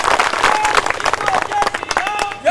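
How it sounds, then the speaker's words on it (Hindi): Audience at a BJP Kisan Morcha gathering in Chamba applauds loudly to welcome a speaker, with dense clapping and crowd noise throughout. "जोरदार तालियों से आप उनका स्वागत करें"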